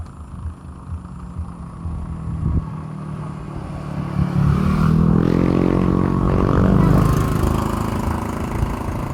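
Motorcycle engines rumble along a road leading into town, growing louder as they approach and pass close by before easing off slightly.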